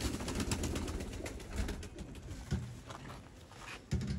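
Pigeons, a slate-grey breeder pair, coo in soft repeated low calls, close by and steady, with no one talking over them.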